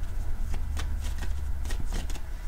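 Tarot cards shuffled up close in a steady series of crisp riffling bursts and soft slaps, with a low constant rumble underneath and no talking.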